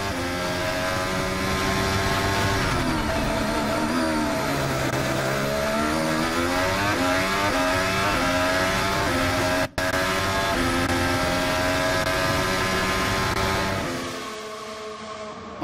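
A Mercedes Formula 1 car engine heard from an onboard helmet camera at the Singapore street circuit, a loud, continuous high-revving whine climbing and dropping through gear changes, with a momentary cut before fading out at the end.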